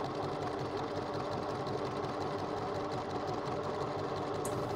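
Sewing machine stitching a dress armhole seam with a one-centimeter seam allowance, a fast steady mechanical whir and rapid needle chatter running continuously and fairly quietly.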